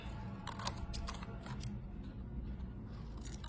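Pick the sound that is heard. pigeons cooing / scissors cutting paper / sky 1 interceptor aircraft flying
scissors cutting paper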